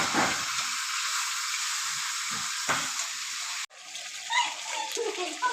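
Potatoes frying and being stirred in a pan while chicken is braised, a steady close sizzle with a few scraping stirs and a brief break partway through.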